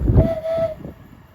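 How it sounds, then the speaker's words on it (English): A single sustained whistle from a departing London Northwestern class 350 train's driver, clear and fairly close, holding one steady tone for about half a second before cutting off amid low rumble. "Nice depot whistle from the driver there as 7:10:378 heads off to Euston"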